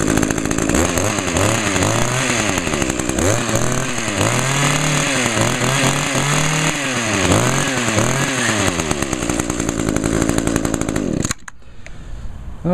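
A chainsaw with a 20 inch bar and a 21.2 cc engine runs close by, its buzzing two-stroke engine revving up and down in repeated surges, then cutting off abruptly near the end.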